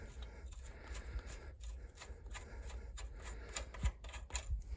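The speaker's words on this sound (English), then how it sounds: "I'm unscrewing the castle nut." Metal castle nut being unscrewed from a jacked-up truck axle during a dually conversion, giving a steady scraping, ratcheting rasp with irregular clicks, close and moderately quiet, with no talking.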